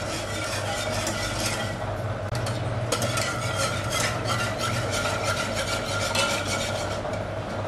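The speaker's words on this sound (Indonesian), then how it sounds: "Aduk terus dia sampai mendidih." A spoon stirs agar-agar with chocolate and coconut milk in a pot, making a continuous, close scraping and rubbing against the metal with a steady rhythm and faint bubbling beneath, with no talking.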